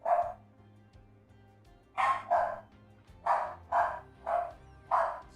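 A pet dog barks nearby in a home setting, loud and clear, six or seven sharp barks in uneven bursts with quiet gaps and a low hum between them.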